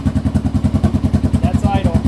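A 2008 Suzuki S40 motorcycle fitted with an Emgo short reverse cone muffler idles close by, a loud, steady single-cylinder thumping pulse repeating evenly throughout.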